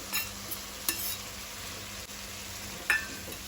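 Goan-style kanga vegetable sabji being mixed in a pan, a soft steady sizzle with a few distinct scraping stirs and light clinks, close and without speech.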